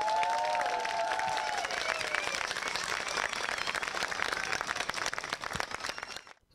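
An audience at an outdoor concert in a public square applauds steadily, with dense clapping that holds for several seconds before dropping away at the end.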